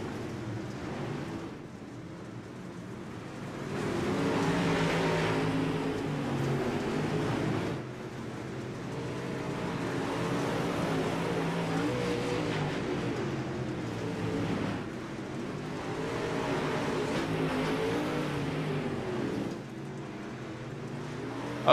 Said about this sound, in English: the rumble of a dirt super late model, different than a truck or a cup car on pavement